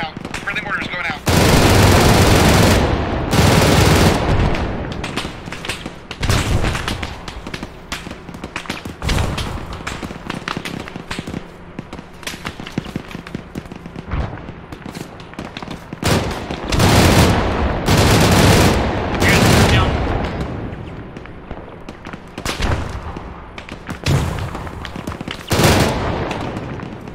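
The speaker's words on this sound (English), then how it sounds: "Alright, we got mortars going out. Friendly mortars going out." Friendly mortar and gunfire in ARMA 3 combat: repeated loud bursts and booming volleys in clusters, with sustained automatic-sounding fire between them and voices talking throughout.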